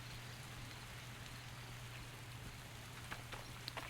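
Steady rainfall in the fantasy game Legends of Aria, a soft continuous patter of drops over a low hum, with a few sharper droplet ticks toward the end.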